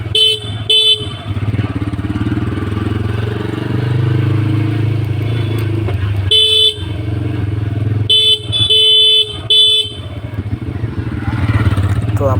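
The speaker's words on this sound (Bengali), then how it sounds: "তো আমার সেম মডেলে একটা বাইক ক্রস করে গেল" A motorcycle of the same model as the rider's own crosses in busy road traffic, its steady engine drone loud and near, broken by a series of short, sharp horn honks.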